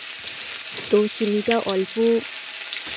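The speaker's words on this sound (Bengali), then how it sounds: "কড়াইতে তেল দিয়ে দিয়েছি, তার সাথে তেজপাতা, গোটা গরম মশলা, চিনি দিয়ে দিলাম আর জিরে দিয়েছি অল্প" Bay leaf, whole garam masala, sugar and cumin fry in oil in a kadai for chicken, a steady close sizzle running under a short stretch of talk in the middle.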